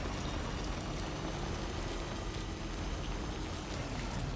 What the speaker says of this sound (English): I still love the way that the rain sounds like victory